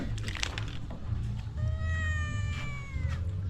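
One cat lets out a long, clear, rising meow over steady low background rumble, preceded by softer cries and scuffling noises.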